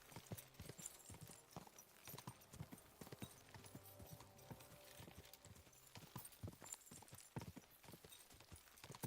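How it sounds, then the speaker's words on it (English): Horse hooves clip-clopping at a gallop in Kingdom Come: Deliverance, a rapid, steady stream of close hoof strikes continuing throughout. "Easy, good horse."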